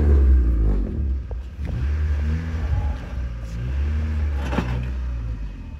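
A Honda motorcycle's exhaust revs up and down in loud, close bursts with a deep rumbling idle between them.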